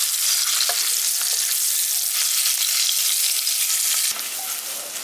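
Eggs coated in salt and turmeric drop into hot oil and fry with a loud, dense, continuous sizzle that eases slightly toward the end, with no voices.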